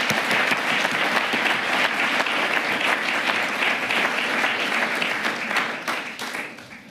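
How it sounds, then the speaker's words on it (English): An audience at an international education forum claps for a conference speaker, a dense sustained round of applause from many hands that carries on evenly and then tapers off near the end. "So a round of applause for Professor Dr."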